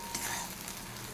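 Kharkol leaf paste frying in oil, a faint soft sizzle with a brief stir, quiet and close.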